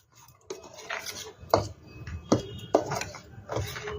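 Omelette pakora batter with white sesame and black pepper is stirred in a bowl, giving a few sharp clinks and scrapes of the utensil against the bowl, spaced irregularly over a quiet background.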